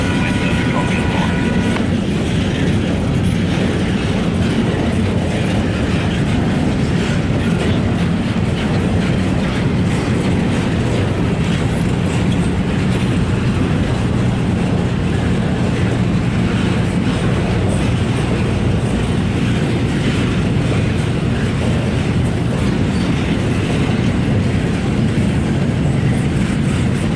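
A long freight train passes close by with a steady, heavy rumble and wheel clatter that stays at the same loud level throughout.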